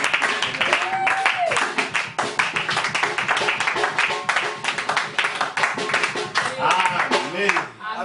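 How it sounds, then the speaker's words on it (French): A church congregation claps along during an Easter service, with rhythmic, sharp claps running throughout, while voices and what sounds like singing or shouting carry over the top. "on applaudit"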